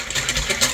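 A whisk beats the ingredients for a gluten- and dairy-free French toast batter in a bowl, giving a brief run of quick, rhythmic scraping strokes up close.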